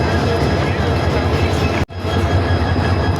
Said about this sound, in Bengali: এই পাশে একটা ট্রেন দাঁড়ানো আছে